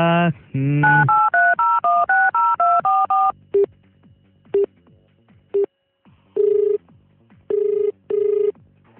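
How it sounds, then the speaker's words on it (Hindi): Telephone number being dialed on a radio show, with a rapid run of DTMF keypad tones followed by several spaced ringback tones. Close and loud, with no voice over the tones. "वैसे अब मैं एक और नंबर डायल करने वाला हूँ।"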